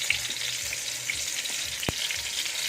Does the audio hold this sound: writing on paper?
no